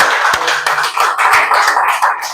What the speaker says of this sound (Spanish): Vamos a darles un aplauso de bienvenida fuerte.